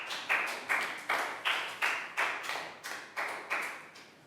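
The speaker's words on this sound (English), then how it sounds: "Big round of applause for Lakgow" Steady rhythmic clapping from a Year 3 classroom group honouring a student, about ten sharp, evenly spaced claps close by, with no talking.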